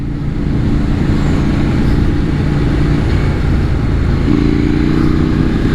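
A KTM-style 890 motorcycle in sport mode pulls hard, its loud, steady engine drone close and continuous, shifting up in pitch near the end as it accelerates; no voices.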